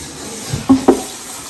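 Chickpeas being rinsed in water in a kitchen pot, with two short close splashy sloshes near the middle over a low background hiss.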